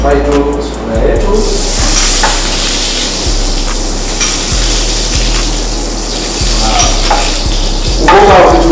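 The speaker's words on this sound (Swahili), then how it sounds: "tunafry tu sufuria yetu" Tomato sauce fries in a cooking pan with very little oil, a wet fry for already deep-fried fish, giving a steady close sizzle and hiss with occasional soft stirring knocks throughout.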